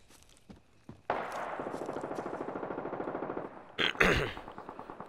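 Rapid automatic gunfire in a video game, a sustained burst of loud shots in even rhythm lasting several seconds, then a sharp blast at the end.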